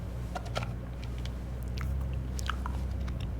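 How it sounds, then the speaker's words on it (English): A character in the HitchHiker video game chews raisins, with soft, wet, crunchy bites repeating irregularly over a steady low engine-like hum, close and fairly quiet with no talking. "Oh, I can really hear him chewing on it."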